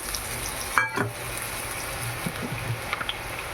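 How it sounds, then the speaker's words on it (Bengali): Bitter gourd and potato frying in hot oil in a pan, a steady close-up crackling sizzle with a few small pops and a stirring clatter near the start. "তেল গরম হয়ে গেছে উচ্ছে আলু তেলের ওপর দিয়ে দিলাম"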